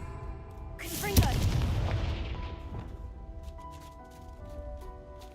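A Confringo blast spell explodes in the Hogwarts Legacy video game: one sharp, loud burst that rolls into a booming, slowly fading rumble, followed by quieter game ambience and faint tones.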